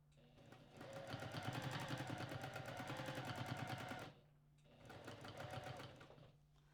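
A domestic sewing machine stitching during free motion quilting, a rapid even mechanical rattle of needle strokes running for about four seconds, pausing briefly, then resuming, close and clear.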